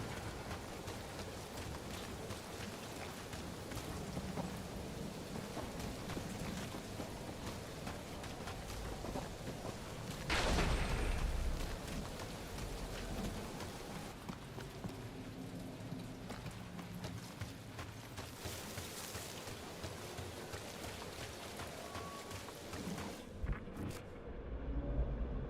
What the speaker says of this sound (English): Perhaps the storm will have abated.